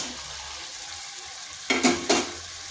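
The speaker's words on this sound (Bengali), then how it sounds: "সয়াবিনগুলো দিয়ে ভালো করে একটু কষিয়ে নিচ্ছি।" Soybean chunks and potato sauté in a pan for a vegetarian dish, a steady close sizzle broken near the end by a few quick bursts of spatula scraping and clatter.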